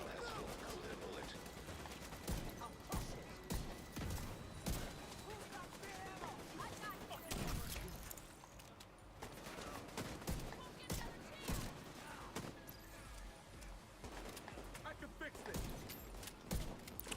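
Rapid bursts of gunfire in The Division 2 video game, with dense irregular volleys of shots and mechanical clatter through a busy mix, quiet overall, with voices talking at times.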